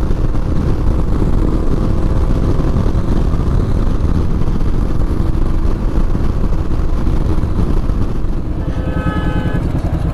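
A motorcycle fitted with a new exhaust roars steadily throughout a fast test ride, a loud continuous engine and road rush with no talking, easing slightly near the end.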